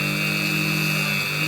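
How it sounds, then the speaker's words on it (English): A drill bit bores through a piece of silver at a jewelry workbench, giving a steady, close, loud mechanical whir with a bright high ring that holds unbroken throughout, no voices. "pop your goggles on and let's get drilling"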